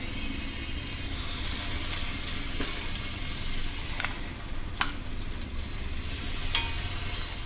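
Spoonfuls of rava appe batter sizzle steadily in a hot appe pan, a close, even frying hiss with a few faint clinks and taps over it and no voices.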